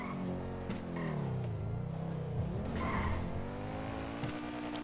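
Sports car engine and exhaust in GTA V Online, a steady revving drone with shifting pitch as the car drives, tires squealing briefly, flame-spitting exhaust pops, loud and continuous throughout.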